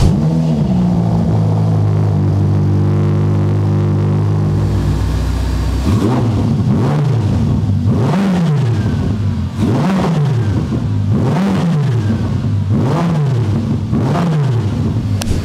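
A 720 hp Ferrari starts with a loud steady idle and then revs hard, about seven sharp rising and falling blips spaced roughly a second apart, close and loud throughout.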